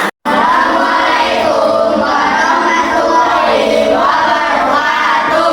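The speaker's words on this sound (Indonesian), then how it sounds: "Beri tepuk tangan yang meriah untuk teman kalian" Classmates in a school classroom clap for a group that has just presented, a dense, loud and steady wash of applause that continues without a break after a brief silent gap at the very start.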